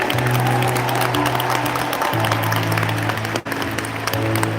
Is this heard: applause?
yes